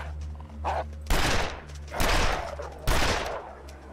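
Gunfire in the survival video game The Long Dark: three loud, sharp rifle shots spaced about a second apart, each with a booming decay and no talking.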